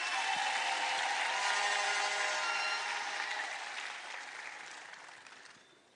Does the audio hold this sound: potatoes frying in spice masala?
no